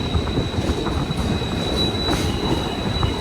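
A train moves at Suravali station with a dense, steady rolling rumble and a constant high-pitched wheel squeal, loud and close, with no voices.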